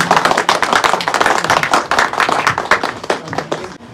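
A wedding crowd claps hard and fast, with dense, sustained applause close by and only brief dips as the clapping continues.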